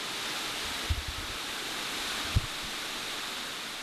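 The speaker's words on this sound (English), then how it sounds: "The waterfall was a popular spot before the Civil War." A waterfall in Côte d'Ivoire gives a steady, even rushing roar. A couple of soft low thumps sound partway through, and no voices are heard.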